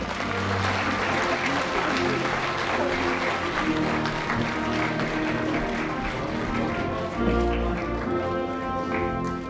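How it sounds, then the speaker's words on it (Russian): At an awards ceremony in Syktyvkar honoring members of a disability society, the audience gives steady, sustained applause. The clapping is even and moderately loud throughout, with faint murmuring underneath. "Аплодисменты"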